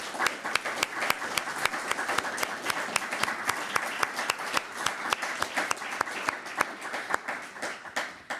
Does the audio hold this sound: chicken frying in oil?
no